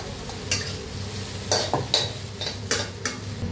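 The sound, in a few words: soybean frying and being stirred in a pan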